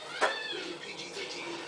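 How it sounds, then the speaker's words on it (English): A cat meows loudly once as a child pulls its tail, a short rising cry followed by a trailing wavering tone. "Let go of Kitty's tail."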